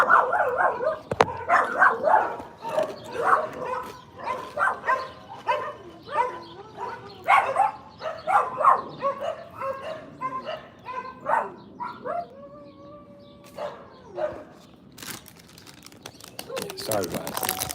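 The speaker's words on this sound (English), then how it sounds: "You dumbass dogs just be barking" Dogs bark and yip in quick repeated bursts nearby, mixed with whimpers and someone talking over them.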